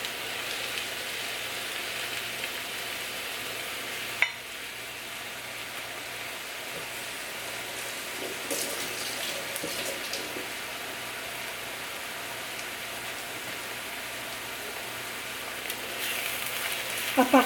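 Chopped onion sizzling in hot oil in a frying pan while cooking mjadra hamra, a steady, fairly soft hiss that runs throughout with light crackles, no voices.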